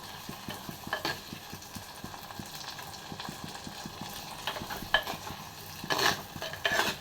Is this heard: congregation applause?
no